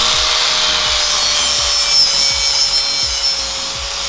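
A grinder worked against metal in a welding shop gives a loud, continuous harsh rasping roar that holds steady throughout, close up, with no talking.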